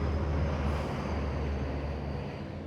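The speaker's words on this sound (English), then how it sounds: "Train." A train rumbles past with a low, steady roar and rattling, gradually fading as it moves away.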